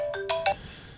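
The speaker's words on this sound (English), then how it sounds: "Oh, there's my phone ringing." Phone ringtone sounding during a tech radio show, three quick bright tonal chimes rising in step, then quiet with faint background hum.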